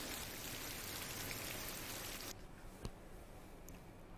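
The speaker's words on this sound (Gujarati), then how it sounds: "વડિયામાં ગાજવીજ સાથે ધોધમાર વરસાદ વરસતા રસ્તા ઉપર પાણી ભરાયેલા જોવા મળ્યા" Heavy downpour with thunder in Vadia, Amreli, Gujarat, flooding roads: a dense, steady hiss of rain that drops sharply to a softer patter about halfway, with one brief splash-like tap afterward.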